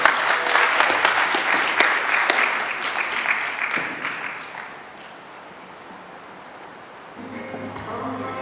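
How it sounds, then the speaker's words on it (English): Wedding guests at a Jamaican wedding ceremony break into loud, close applause that gradually fades to quiet, with faint murmuring and a soft tonal sound returning near the end. "Clap them, everybody."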